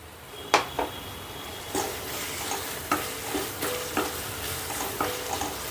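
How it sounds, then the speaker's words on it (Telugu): Tomatoes fry in oil with cumin powder for tomato rice, a steady sizzle broken by rhythmic scrapes of a spoon stirring the pan about once a second. "టమాటాలలో చెమ్మ మొత్తం పోయి ఆయిల్ పైకి వచ్చేంత వరకు ఫ్రై చేసుకుందాం"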